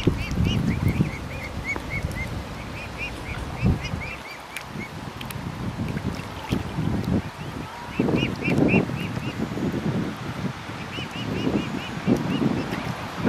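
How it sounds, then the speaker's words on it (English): Birds on a city canal, likely swans with other waterfowl, give repeated honking calls in short bursts over a steady outdoor background of wind and low rumble, moderately near, with no talk. "Yeah, so there are still swans along this stretch."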